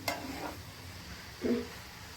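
A masala of onion, tomato and chili with fenugreek greens and egg is stirred in a pan, giving a faint low sizzle broken by two short scraping stirs.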